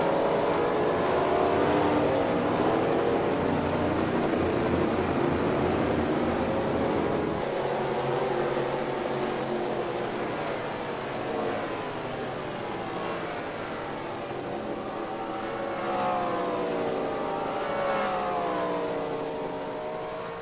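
Stock cars pulling away from pit road at a race, a loud, sustained engine roar with rising and falling pitch sweeps as cars rev and pass.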